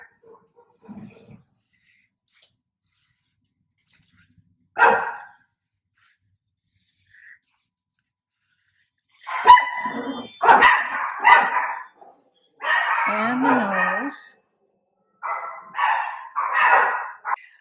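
Several pet dogs bark in bursts, spooked while pumpkins are being drawn at home, with sharp loud barks and a rising whine; someone speaks briefly between the barking.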